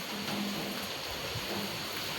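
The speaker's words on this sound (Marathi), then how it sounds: "बापरे किती पाऊस येतोय." A heavy rain shower pours down outdoors, making a dense, continuous hiss of falling water that stays steady and fairly loud throughout, with no talk.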